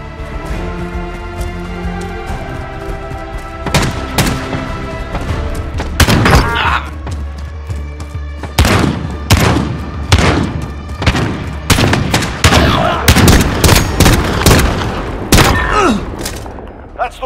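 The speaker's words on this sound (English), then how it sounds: "Gunfight." Call of Duty gunfight: a long run of sharp gunshots and heavy thudding blasts, single cracks and clustered bursts firing in uneven rhythm, loud and close, over a steady low battlefield rumble.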